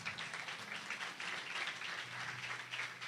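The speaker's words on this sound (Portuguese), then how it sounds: "Vamos aplaudir o auxiliar Robson com uma forte salva de palmas" A church congregation applauds together, a dense, even wash of clapping from many hands that holds steady throughout, moderately distant, with no speech.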